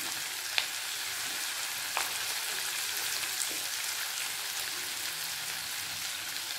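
Capsicum slices tossed into a pan with small onions already frying, giving a steady sizzle throughout with a few faint clicks of stirring.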